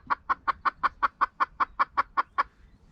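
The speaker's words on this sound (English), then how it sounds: "So Liz, how do you integrate 2 chickens into a household that's already got 2 chickens?" Chickens cluck in a quick, even series of about thirteen calls, close and clear, with no talking.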